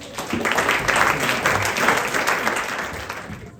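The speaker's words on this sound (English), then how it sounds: "Give yourself a round of applause" Guests at a cricket club awards dinner break into warm applause, a dense, steady patter of many hands that swells early, holds, then tapers off near the end.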